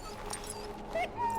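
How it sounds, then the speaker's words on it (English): A wounded mabari war dog whimpers in Dragon Age: Origins, a few soft, high, wavering whines over a faint game ambience, close and fairly quiet, with no clear talk. "Now I can treat the dog properly, poor fella."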